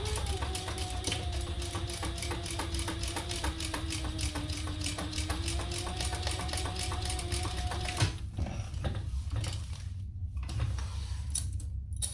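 A sewing machine runs a seam on the lining of a sling bag, a rapid, even mechanical clatter with a steady hum for about eight seconds, then stops as handling rustles and soft clicks follow.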